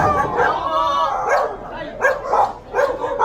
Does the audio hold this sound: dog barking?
yes